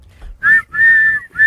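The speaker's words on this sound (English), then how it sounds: "Blow the whistle." Three loud, clear whistle blasts in quick succession, the middle one held longest, close by with no speech.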